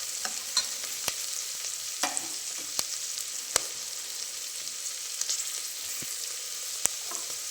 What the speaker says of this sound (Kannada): ನೋಡಿ, ಚೆನ್ನಾಗಿ ಫ್ರೈ ಆಗ್ತಾ ಇದೆ ಇದು.